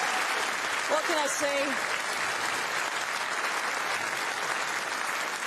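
Applause from the audience at a snooker trophy ceremony after a UK Championship final, sustained clapping that fills the whole stretch, with a voice briefly speaking over it near the start.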